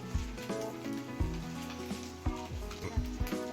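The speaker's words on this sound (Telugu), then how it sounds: "ఇట్లా లో ఫ్లేమ్లో పెట్టుకుని మంచిగా ఫ్రై చేసుకోవాలన్నమాట" Egg frying in a pan over a low flame, with a steady close sizzle broken by a few louder scraping or stirring knocks spread through the clip; no voices.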